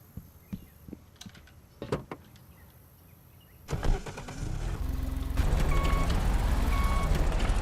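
Tractor in Farming Simulator: scattered clicks and knocks first, then an engine starts with a rising rumble and settles into a steady loud drone with a faint tonal whine.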